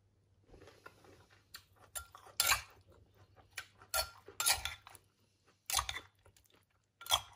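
Someone chews and crunches a mouthful of pounded Thai squid salad with corn and shrimp, close-up bites in irregular bursts with faint clinks of cutlery against a dish between them, no talking.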